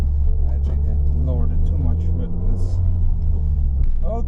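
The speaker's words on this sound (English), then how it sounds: "we're in a Mini Cooper. We're taking it for a spin." A 2004 Mini Cooper on a test drive, its engine and road rumble a steady low drone from inside the cabin, with people talking over it throughout.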